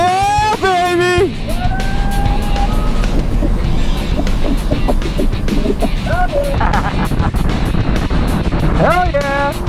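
A Mazda MX5 or Toyota GT86 sports car braking and driving hard on a track, its engine note rising and falling with wind noise throughout, under steady excited talk from the driver.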